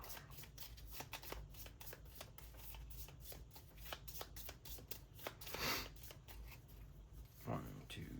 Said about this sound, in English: so he's going to shuffle up.